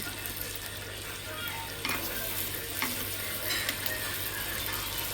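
An egg fries in a hot pan with a steady, close sizzle, broken by a few scraping stirs and clinks of a spoon against the pan.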